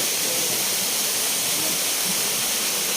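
Waterfalls at Tatlıca in Erfelek, Sinop, a steady broadband roar of falling water, dense and continuous throughout at moderate loudness with no voices.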